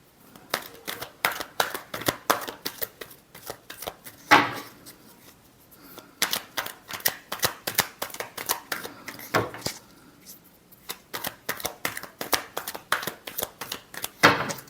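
Tarot cards being shuffled by hand, a run of quick crisp riffling flutters in bursts with short pauses between, close and fairly quiet, no voices.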